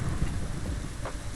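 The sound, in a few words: thunder and rain in Minecraft video game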